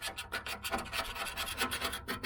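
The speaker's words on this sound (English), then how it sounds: "Just scrape real clean, real quick." A scraper rasps old paint off a metal mower deck in quick repeated strokes, a close, dry scratching rhythm of short bursts with no talk.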